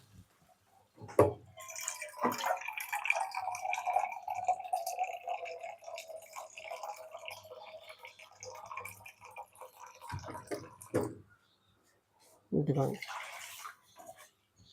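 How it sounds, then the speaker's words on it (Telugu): Water pours steadily into a cooking pan for several seconds while making pesarattu upma, a continuous splashing fill, followed by a few clinks and brief bumps. "వాటర్ వేస్తున్నాను"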